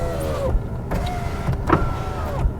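Electric windows on a Mini Cooper whine up and down in several short motor runs, close and clear over a low engine idle.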